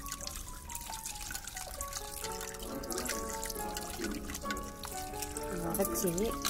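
Cleaned crab is rinsed in water, giving a steady sloshing, trickling wash that runs close and continuous over a tonal background hum.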